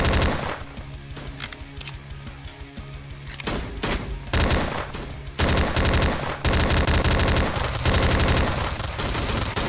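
AKM rifle fire in the horror shooter game Slendytubbies 3 rattles in loud sustained automatic bursts, with brief gaps between volleys and the firing growing denser and louder toward the end.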